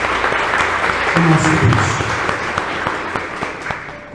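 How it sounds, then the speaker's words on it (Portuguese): A church congregation gives a strong round of applause for Jesus, dense steady clapping filling the room while a voice speaks over it. "Vamos dar uma forte salva de palmas para Jesus."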